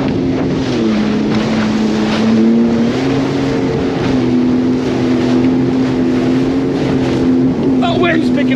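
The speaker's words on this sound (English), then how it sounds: "That wind's picking up again." Wind roars over a motorboat out on Lake Erie, a steady loud rush mixed with the droning hull engine and water noise, close to the microphone and unbroken throughout.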